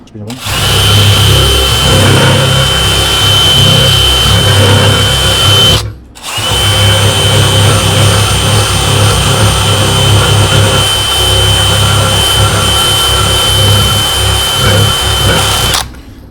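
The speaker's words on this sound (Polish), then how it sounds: "Zabielamy sobie listkiem. Robię to wkrętarką." A cordless drill fitted with a flap disc polishes stainless steel pipe, giving a loud, steady high-pitched whine with a grinding rasp that runs almost continuously, broken by one short pause partway through.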